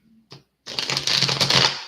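Tarot deck being shuffled by hand, a dense run of papery riffling and flicking that starts after a brief soft touch and keeps going steadily and close up, with no talking.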